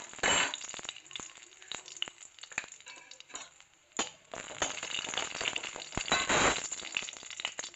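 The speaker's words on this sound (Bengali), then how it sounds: "কড়াইতে তেল দিয়ে দিলাম, শুকনো লঙ্কা, তেজপাতা দিয়ে দিলাম" Dried red chillies and bay leaves fry in hot oil in a wok, giving a steady close sizzle and crackle with sharp spikes and clinks from stirring, strongest at the start and end.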